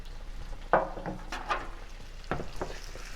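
Pepper and onions fry in a pan while being stirred, a quiet sizzle broken by several scraping, clattering stirs at irregular intervals, close by.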